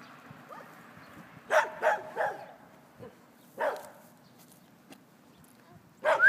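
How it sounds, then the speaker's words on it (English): A dog barks several times in short bursts, a quick run of three, then single barks spaced apart, moderately close over a quiet background. "Mama might be afraid because she hears that dog barking"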